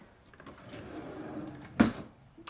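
A kitchen drawer in a small kitchen slides open with a single soft clunk near the end, close and fairly quiet, with no one speaking.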